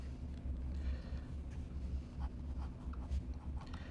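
An S.T. Dupont fountain pen nib squeaks and scratches across Rhodia paper in short, close strokes. Faint squeaks come in an irregular rhythm over a low background rumble.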